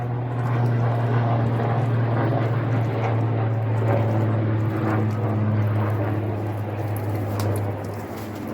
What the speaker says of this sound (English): a helicopter just flying right over